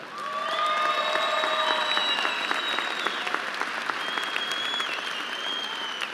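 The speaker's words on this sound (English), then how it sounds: "Please give them a big round of applause." A large crowd at a high school graduation ceremony applauds steadily and loudly, with a few whistles and cheers rising above the clapping throughout.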